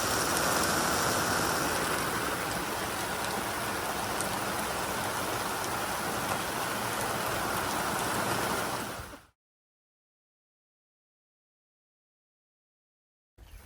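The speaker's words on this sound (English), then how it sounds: "And now it's hailing again. You can see it bouncing off the roof of" Hail bouncing off a homestead roof makes a dense, steady patter and hiss like heavy rain, continuous and close, before cutting abruptly to silence.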